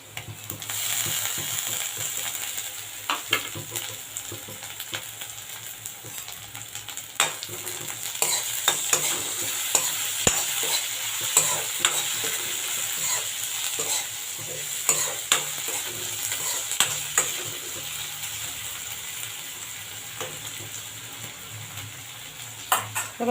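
Ginger-garlic paste is stir-fried in a pan: a continuous close sizzle broken by frequent scraping and clattering strokes of a spatula against the metal, with no talking.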